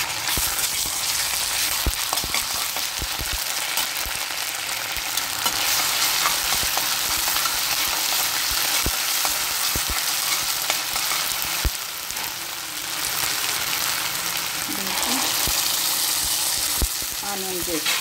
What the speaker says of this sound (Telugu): ఆనియన్స్ వేగాక రెండు స్పూన్లు అల్లం వెల్లుల్లి పేస్ట్,